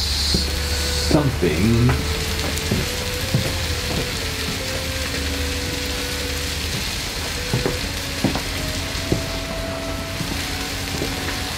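Onions frying on a grill give a steady, loud sizzle with a few scraping clinks of a utensil and some faint background voices.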